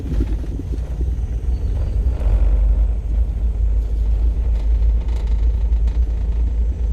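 Steady low rumble of vehicles passing along a quiet rural mountain road, a continuous engine and tire drone with no speech.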